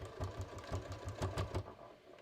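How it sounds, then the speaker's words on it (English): A sewing machine bar tacks the pocket of a pair of shorts with rapid, evenly spaced needle strokes. The strokes sound close and moderately quiet and stop abruptly after about a second and a half. "I'm going to bar tack this pretty good."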